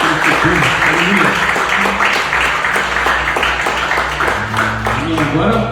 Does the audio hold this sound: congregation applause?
yes